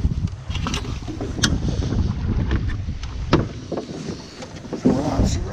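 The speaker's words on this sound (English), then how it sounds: "Come on, trolling motor." A trolling motor drives a fishing boat on a lake in strong wind, a steady low drone and water wash almost buried under heavy buffeting wind noise across the microphone, loud throughout.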